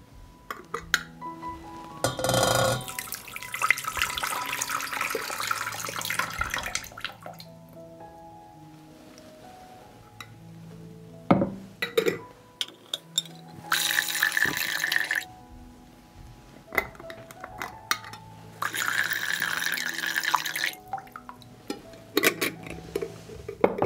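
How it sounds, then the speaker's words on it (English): Liquid poured from a jar into a pan while cooking, heard as intermittent dripping and splashing in several bursts with quieter gaps and light kitchen clatter. "After standing for 15 minutes, I pour the liquid from the jar into the pan."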